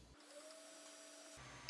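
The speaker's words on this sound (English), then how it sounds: "So we're going to turn the printer on" An Ender 3 Max 3D printer being turned on gives a steady electronic hum and tone for about a second before cutting out, ending in a faint click, with no voices.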